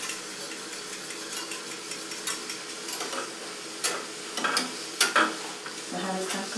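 A vegan custard is stirred in a pot on the stove, giving soft continuous scraping and swishing with a faint bubbling sizzle and several sharper spoon knocks against the pot, close and alone.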